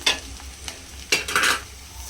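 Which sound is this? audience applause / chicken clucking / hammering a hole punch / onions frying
onions frying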